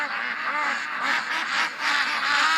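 A flock of ducks quacking continuously and loudly close by, their overlapping calls filling the whole stretch.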